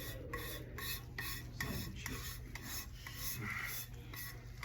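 A hand rasp files a positive plaster cast from a foam box or slipper box mold, giving steady, repeated scraping strokes at close range in an even back-and-forth rhythm, fairly quiet and with no one speaking.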